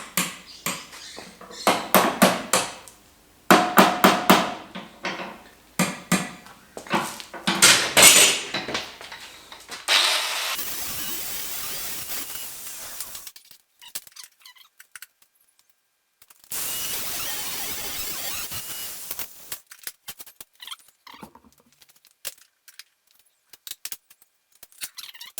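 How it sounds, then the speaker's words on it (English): Screws for mounting a board on a T-slot channel are cut to length in a workshop, giving loud metallic cutting bursts and clattering handling in two main stretches, with a short grinding-like spell near the middle and quieter clinks between. "I've got to cut all these screws"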